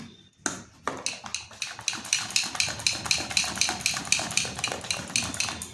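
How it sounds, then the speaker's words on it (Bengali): Rapid rhythmic whisking of a thick semolina and flour batter for pua pitha in a metal bowl, a steady run of close, sharp clinking strokes with no talk. "এটাকে আবার 5 থেকে 10 মিনিট ফেটিয়ে নিচ্ছি।"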